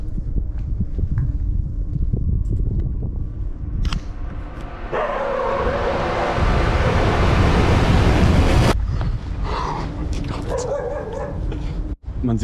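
Ocean waves break and wash at the shore in Lisbon, a loud roaring surge that swells and recedes with strong wind noise while people talk and a dog barks nearby.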